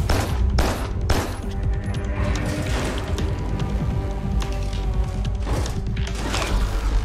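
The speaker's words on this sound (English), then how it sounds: "that sentry gun is a problem" Sentry gun in the game Carrion firing repeated rapid bursts, a dense rattling stream of shots punctuated by sharper loud cracks, close and continuous throughout.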